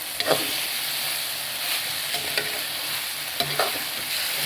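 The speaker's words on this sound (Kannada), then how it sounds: "ಬಸಿ ಹಾಕ್ಕೊಂಡಿರೋ ನೂಡಲ್ಸನ್ನು ಹಾಕ್ತಿದ್ದೀನಿ" Drained noodles are tossed in a hot pan with garam masala, giving a steady sizzle of frying with scraping stirs and a few sharper clanks of a utensil against the pan, close and continuous.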